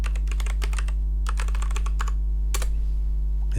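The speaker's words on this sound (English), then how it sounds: "at this point, I want you to type sudo," Quick, uneven keystrokes clatter on a computer keyboard in bursts, with a short pause in the middle, over a constant low electrical hum.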